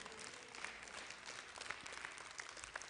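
Church congregation clapping hands during a live-streamed sermon, a continuous, fairly faint patter of many hands with occasional sharper individual claps.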